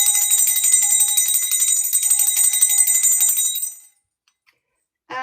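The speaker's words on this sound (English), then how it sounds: "This is your freedom bell, my love." A bright, rapidly trilling bell rings continuously for nearly four seconds, close and loud, then stops; a brief burst of sound follows after a short silence.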